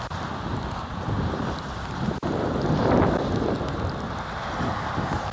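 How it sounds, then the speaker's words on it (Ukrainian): Steady outdoor rain patters with gusts of wind buffeting the microphone, a continuous broadband wash with a soft rumble underneath and no voices. "Погода е, така трішки дощ іде маленький."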